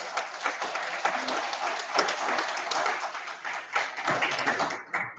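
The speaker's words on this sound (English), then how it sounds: "Ladies and gentlemen, to him, a big round of applause." Applause rises from an audience at a business mission gathering, many hands clapping steadily at moderate volume with some closer sharp claps, tapering off abruptly at the end.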